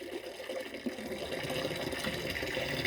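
Water drawn from a reservoir being poured and handled, a continuous close splashing and trickling flow at moderate level.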